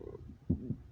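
A short, low guttural burp rises out of quiet background murmur, with a brief second gulping swell just after.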